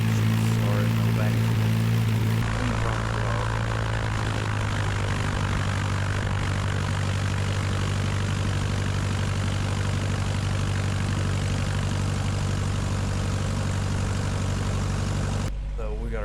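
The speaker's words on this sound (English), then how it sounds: "You can see the engine is fired up." A small propeller airplane's engine runs steadily after start-up, a loud, close, continuous drone with a deep throbbing rumble.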